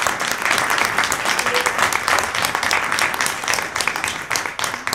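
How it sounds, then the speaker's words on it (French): Steady, fairly loud applause in a municipal council chamber at the installation session of a French town council, a dense sustained clapping from the seated members lasting throughout without pause. "je les applaudis."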